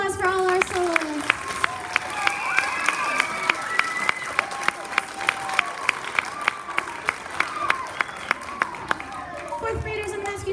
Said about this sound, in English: Round of applause for all our soloists.